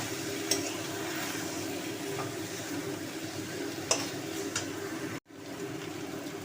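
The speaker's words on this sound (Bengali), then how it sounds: "একটু জাস্ট মশলার সাথে একটু নাড়িয়ে নিচ্ছি" Prawn and jackfruit curry with spices is stirred in a pan, giving a soft steady sizzle broken by a few light scrapes and clinks, with a brief cut to silence near the end.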